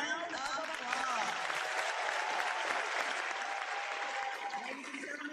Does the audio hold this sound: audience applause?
yes